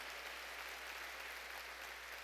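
Congregation applause during a Korean church sermon, a continuous wash of clapping heard faintly and evenly with a low steady hum beneath.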